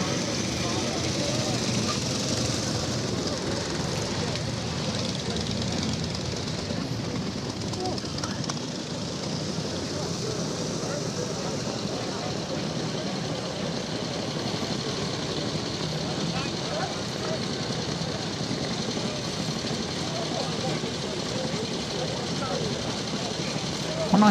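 A black-period Ariel motorcycle sets off at the Vintage Motor Cycle Club Banbury Run. The vintage single's engine runs steadily and loudly throughout, with a broad, continuous rumble mixed into constant crowd and engine noise from other bikes.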